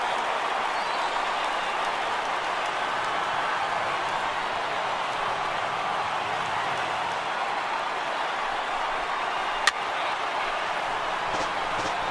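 Large baseball stadium crowd of over 39,000 in MLB The Show 18, a dense continuous roar of cheering at even loudness throughout, with one brief sharp crack near the end.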